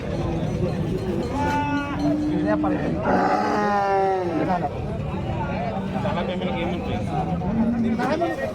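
Cattle low and moo several times amid a noisy crowd at a cattle market in Sangola, with people talking throughout and a busy outdoor din.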